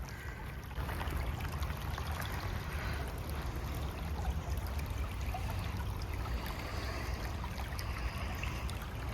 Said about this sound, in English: There's the creek, the stream, the creek, the little river, whatever you want to call it.